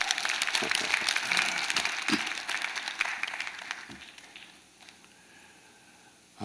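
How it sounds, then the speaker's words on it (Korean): A church congregation at an early-morning prayer service applauds, a scattered wash of many hands clapping that thins and fades out after about four seconds into near quiet. "저 2층을 위해서 우리 박수 한번 하겠습니다"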